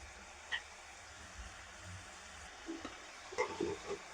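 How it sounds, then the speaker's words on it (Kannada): Aloo samosas deep-frying in oil until golden brown, a faint steady hiss with a few soft clinks and bumps of the utensils near the end. "ಎರಡು ಕಡೆ ಗೋಲ್ಡನ್ ಬ್ರೌನ್ ಆಗೋ ತನಕ ಫ್ರೈ ಮಾಡ್ಕೋಬೇಕು."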